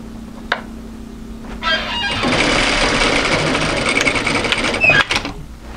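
A sewing machine stitches the shoulder seam of a mid-length wrap cardigan at a 1 cm seam allowance, with a few light clicks, then a steady mechanical whir running close and fairly loud for about three seconds before it stops.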